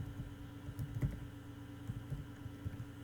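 Java code being typed on a computer keyboard, a steady run of quiet clicking keystrokes with uneven rhythm, close up and alone.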